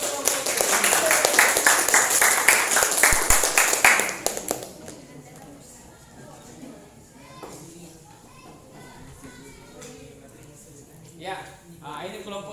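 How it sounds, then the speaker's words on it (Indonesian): A room of students gives group 5 a burst of dense clapping for about four seconds, then it stops abruptly and a voice talks over quiet background chatter, with a short patter of claps near the end. "berikan aplaus untuk kelompok 5"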